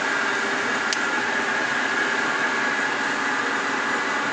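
A Caballeria TR 40 capstan lathe runs under longitudinal power feed, giving off a steady, loud mechanical hum and whine that holds evenly throughout, with one brief tick partway in.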